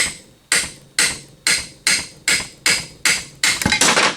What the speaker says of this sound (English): We're going to take that hammer.